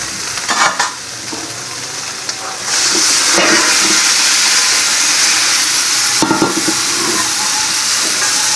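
Spiced meat for chicken pulao hisses and sizzles loudly and steadily in a hot pan. The frying grows stronger after a few seconds, with a couple of brief scraping stirs and no voices.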